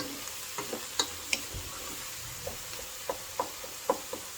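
Kulfa saag cooking in a pan, with a soft background sizzle and a series of light, regular spoon taps and scrapes as the greens are stirred, close and quiet.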